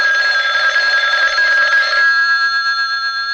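Telephone ringing as a radio drama sound effect, one sustained electric bell ring that stops about two-thirds of the way through, then a fainter tone trails off, clear and close with no voices.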